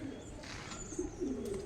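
Homer pigeons coo softly in a loft, with a few low, throaty calls close by against a quiet room, and a faint voice in the background.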